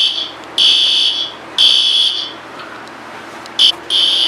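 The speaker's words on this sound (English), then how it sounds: "Fire alarm at 2 o'clock in the morning." A school building's fire alarm beeps in loud, piercing high-pitched bursts of uneven length separated by short gaps, with no talking.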